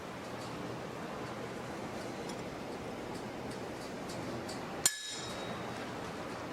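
A single light hammer tap on a center punch set on a layout crosshair to mark metal for drilling, one sharp metallic click near the end against steady background hiss.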